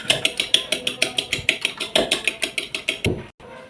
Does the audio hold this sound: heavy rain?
no